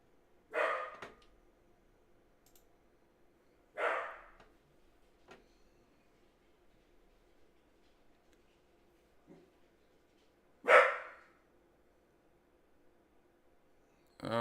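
A dog barks indoors three times, each a single loud bark several seconds apart, against a quiet background with no talking.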